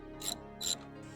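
A ratchet loosening a small 10 mm bolt that holds a box, heard as two short, close metallic clicking bursts about half a second apart, then quiet.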